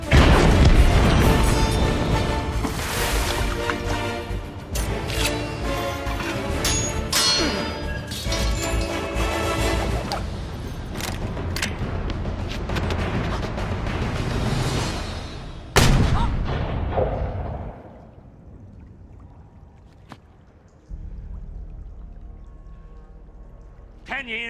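A pistol shot rings out sharply in the middle of a loud, busy stretch of crashing and rumbling noise, and the scene then settles into quieter sound.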